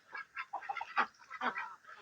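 Ducks and chickens being raised at a home, a few short nasal quacking calls in quick bursts, close and moderately faint, with no talk.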